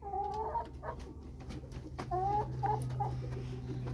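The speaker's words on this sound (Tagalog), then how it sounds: "There's a chicken, oh. Look, chicken." A chicken clucking up close in short, repeated bursts over a few seconds, with a low background hum.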